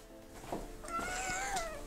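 A house cat meowing twice indoors, close and fairly clear, the second call longer with a rising, drawn-out tone.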